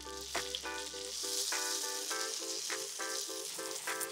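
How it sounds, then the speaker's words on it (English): Potato cake patties fry in butter and oil with a steady, close hiss and a dense scatter of crackling pops, and no talking over it. "You fry them on one side until you develop like a golden crust, flip it over and fry it on the other side."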